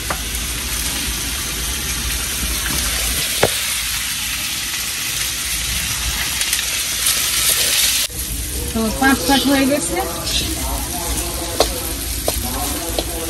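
Okra frying in a pan in a home kitchen gives a steady, close sizzle throughout, with a voice talking over the later part.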